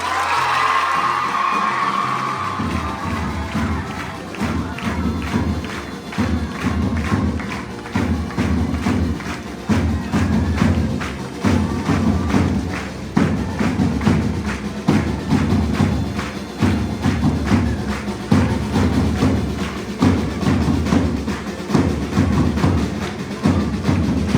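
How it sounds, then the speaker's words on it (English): A big round of applause fills a school investiture ceremony hall: loud, sustained clapping from a large crowd of students, with a thick, even rhythm of claps running throughout and scattered cheers and whoops. "A huge round of applause."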